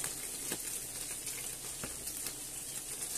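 Chopped onion sizzles in a hot pan with a steady, bright crackle and occasional sharper pops and spits, heard close and alone.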